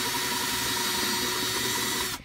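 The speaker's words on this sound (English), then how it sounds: "So let's see if I can get this to drill it out just a little bit more." A power drill whines steadily and loudly as it widens a hole in a plastic bucket, running continuously before cutting off abruptly at the end.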